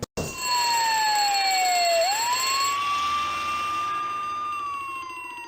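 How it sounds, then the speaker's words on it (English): Fire alarm in the video game Harvester, a loud continuous ringing siren tone that sweeps down, rises again and holds steady, with a bright metallic bell shimmer, starting abruptly after a brief click. "Cool. Fire alarm."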